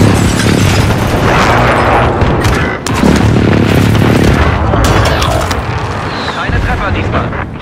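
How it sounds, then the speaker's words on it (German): A loud, close air strike in Call of Duty: Modern Warfare sends booming explosions and crackling blasts rolling in a near-continuous barrage, while radio voices speak German over the din. "Luftschlag im Anflug."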